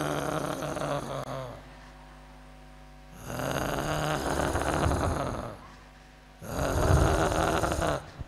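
A preacher imitates snoring during a sermon, three long loud rasping snore sounds with pauses between them, close to the microphone.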